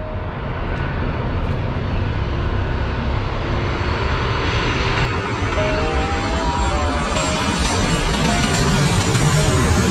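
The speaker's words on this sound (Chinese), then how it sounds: "这里看飞机简直太壮观了，就是在你头顶上飞过去" A large passenger airliner roars low overhead at Sanya Phoenix Airport, its engine noise loud and continuous for the full stretch, swelling slightly toward the end.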